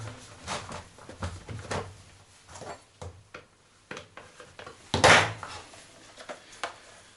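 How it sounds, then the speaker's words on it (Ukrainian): The plastic cover of an EMAS EM 509 chainsaw being fitted and snapped shut, heard as a series of close, soft clicks and knocks with one louder clack partway through, and no talk. "беремо плотненько, попадаємо всі пази, закриваємо цю кришку"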